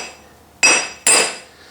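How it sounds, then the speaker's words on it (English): Two sharp, loud metallic hammer blows driving a wheel stud into a worn, ovaled commercial mower rim, spaced about half a second apart, each ringing briefly before decaying. "I'm having to hit it real hard to get it in"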